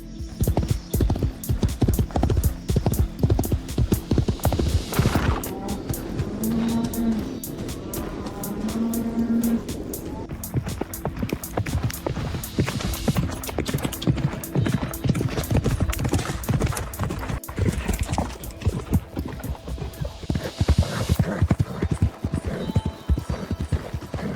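Horse hooves clip-clop steadily and loudly under a rider in an AI-generated Sora 2 horse rider scene, a dense continuous rhythm with a brief whinny-like tone partway through and no talk.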